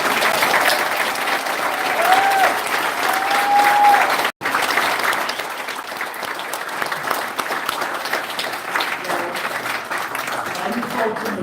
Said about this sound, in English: please, everyone, one more big round of applause